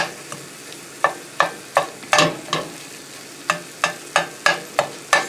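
Sizzling sausage browning in a pan for homemade pizza, a spatula repeatedly scraping and chopping, sharp irregular strikes over a quiet frying hiss.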